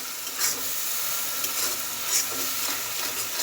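Dried fish masala stir-frying in a pan, with a steady close sizzle and faint scraping stirs throughout, no talking.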